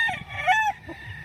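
A battle cross rooster used as a broodcock gives a short, clear crow, fairly close and alone, with a few clucking notes trailing off at the end.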